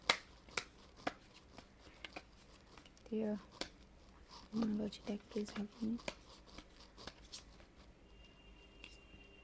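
Tarot cards shuffled by hand, a series of soft, sharp flicks and riffling bursts, with quiet talking mixed in partway through.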